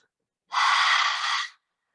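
A single deep, steady inhalation during a calm bedtime yoga session, lasting about a second, close and alone in otherwise quiet surroundings.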